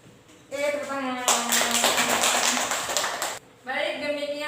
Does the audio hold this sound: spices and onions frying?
no